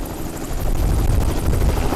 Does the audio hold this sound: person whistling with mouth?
no